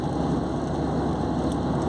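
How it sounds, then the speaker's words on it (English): Rain falls steadily outside, a dense, continuous hiss of drops on surfaces, fairly loud and heard alone without speech. "today it is raining"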